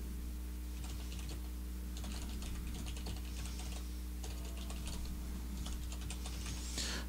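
Bursts of quick clicking keystrokes on a computer keyboard, faint and close, with short pauses between runs and no voice.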